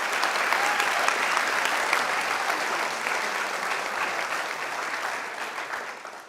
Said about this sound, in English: I know at least some of that applause was for Al,